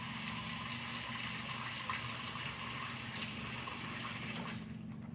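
Kitchen tap water runs steadily while dishes are washed, a continuous gushing stream at moderate level that fades and stops near the end.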